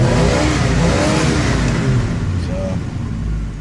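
A 1971 postal Jeep engine revs loudly up close, a continuous mid-pitched roar that swells and eases slightly over a few seconds.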